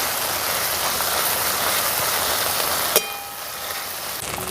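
Tomato with ginger and green chili paste fries in a pan with a steady, close sizzle that holds for about three seconds, then drops quieter after a sharp click, crackling on softly.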